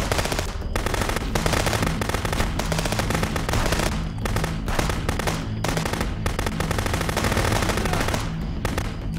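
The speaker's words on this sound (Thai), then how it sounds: "ดวลปืนกัน" Sustained automatic gunfire from a shootout in the video game Contraband Police, loud rapid bursts repeating throughout with brief gaps between volleys and no talking.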